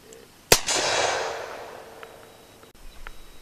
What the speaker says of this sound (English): First shot, double action.